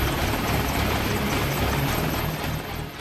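An Apache attack helicopter in flight: a loud, dense rotor and engine roar that stays steady throughout, full and close, with no speech.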